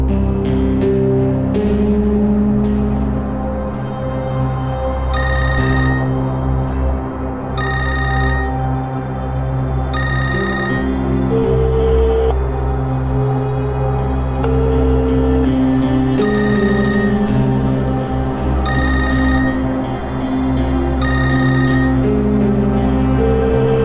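A telephone rings over and over without being answered, the same ring repeating at regular intervals against a background of music.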